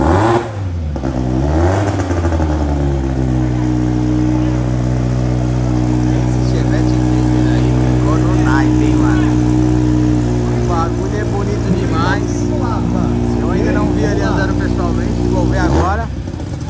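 Chevette race cars in a Força Livre Traseira drag race at the 2022 Paraná championship rev hard and close up, their engine notes holding high, rising and falling over about sixteen seconds.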